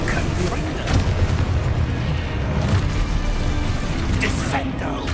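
Fiery Confringo spell blasts from the video game Hogwarts Legacy go off as a dense run of booming bursts and crackling explosions, layered over busy game sounds while a voice speaks.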